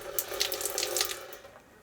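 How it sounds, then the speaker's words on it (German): Water runs steadily from a kitchen tap in a converted construction trailer, a continuous close splashing hiss with a few brighter spatters, trailing off slightly toward the end. "Wir haben hier fließend Wasser."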